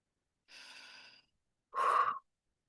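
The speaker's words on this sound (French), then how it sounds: "Tu peux prendre une grande inspiration." A person takes a deep breath in, a soft airy inhale followed a moment later by a louder, fuller rush of breath, close and alone in an otherwise quiet space.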